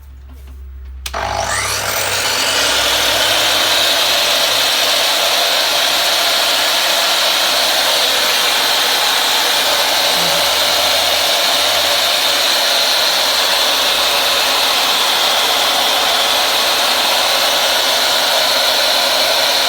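A Makita LS1018 slide compound miter saw whirs up after a click and runs at a steady, loud, high-pitched whine without stopping.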